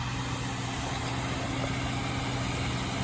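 A Valtra tractor engine runs in a farm field in Europe, a constant, loud, rumbling drone that stays even from start to finish with no talking over it.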